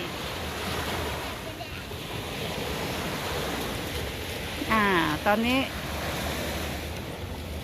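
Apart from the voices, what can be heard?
sea waves breaking on the shore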